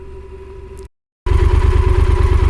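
Yamaha Super Tenere 1200 ES motorcycle on the road, its engine droning steadily and close, cutting out to a brief gap of silence before returning louder with a throbbing mid-pitched rumble.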